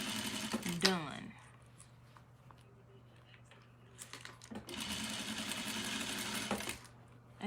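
A sewing machine backstitches the hem of a simple skirt in two loud bursts of rapid stitching, separated by a quieter pause with handling noise and a steady low hum beneath.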